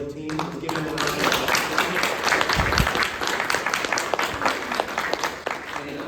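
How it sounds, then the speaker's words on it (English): An audience at an award ceremony applauds with a dense, sustained wash of clapping that stays fairly loud and even throughout, with voices mixed in among the claps. "y'all give yourselves a round of applause because y'all made it"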